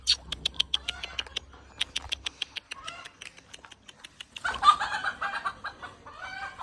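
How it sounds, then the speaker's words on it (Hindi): Chickens clucking in a series of sharp, rhythmic bursts at close range, followed by a denser flurry of louder fowl calls that could include a rooster, with a low hum fading out early. "हो सकता है मुर्गियों की आवाज सुन के नीचे उतरे"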